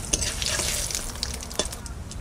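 Bay leaf and cumin spitting in hot mustard oil, a dense and steady sizzle with brief crackling bursts scattered through it, close and with no voices over it.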